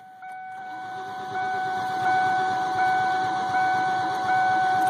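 A 1995 MTX car engine cranks with the pedal floored but never starts, giving a steady, rhythmic churning that rises slightly over several seconds, with a constant high-pitched whine above it.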